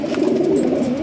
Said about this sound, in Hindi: ये हवेली के अंदर जो है कबूतर उड़ रहे हैं जी